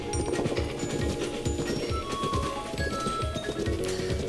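Horse galloping in The Legend of Zelda: Breath of the Wild, a fast rhythmic clip-clop of hooves repeating steadily at moderate volume over a busy game soundtrack, with no talk.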